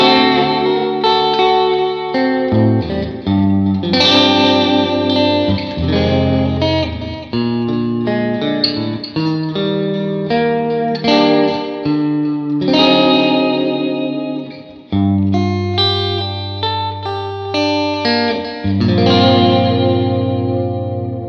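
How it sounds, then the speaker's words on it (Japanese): A Fender Jazzmaster plays clean arpeggios through a Vox AC30 amp model with a touch of drive and modulated delay, steady ringing chords with wavering echoes continuing throughout, loud and alone. "クリーンのアルペジオ系のサウンドを聴いていただこうと思います"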